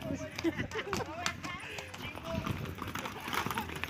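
Horse hooves clip-clop on a road in rural San Luis Potosí, a quick uneven patter of hoofbeats mixed with voices talking nearby.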